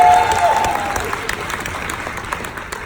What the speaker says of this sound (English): Could you cheer?